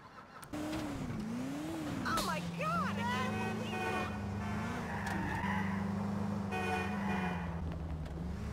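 Car engine revving and driving in the video game GTA 4, a steady loud motor drone with shifting pitch, brief tire squeals and a horn toot, continuous throughout.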